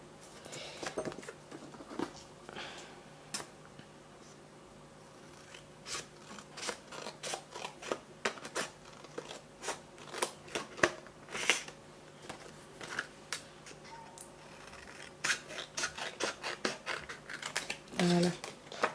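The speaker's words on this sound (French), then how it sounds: "vous venez vous mettre là, hop, et vous allez venir découper ici" Scissors cut through card in a quick run of crisp snips close up, with short rustles of handled paper and some quiet talk in between.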